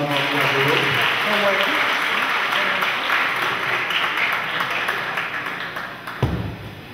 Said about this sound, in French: Applaudissez encore une fois